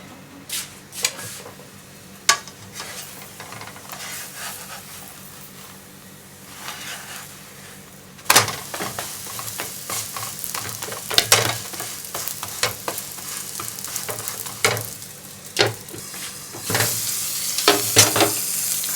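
Food frying in oil in a pan alongside round butter naan: a soft, steady sizzle broken by sharp crackles and pops, swelling louder and denser in the second half, with occasional stirring scrapes.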